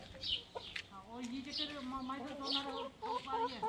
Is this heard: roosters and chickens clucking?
yes